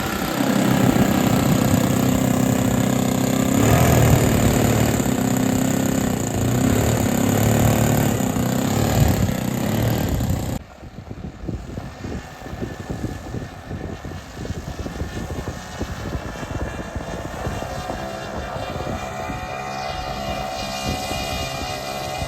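A Dan Palmer Commander model airplane engine roars loud and steady on its first flight, then abruptly drops to a fainter, sputtering drone as the plane moves farther away.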